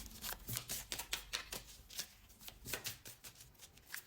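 Tarot cards being shuffled by hand, a quick run of crisp riffling flicks and soft slaps close by, steady rhythmic bursts with no talking.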